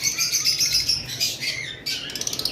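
Busy, high-pitched chirping and twittering from a pair of masked lovebirds, continuous and fairly close, with quick overlapping calls and no talking.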